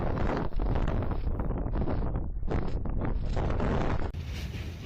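Desert wind howls in gusts above 60 mph, a loud, continuous roaring rush buffeting the microphone with surging and easing swells, no voices.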